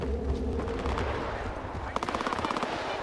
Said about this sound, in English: there's a whole bunch of gunfire going on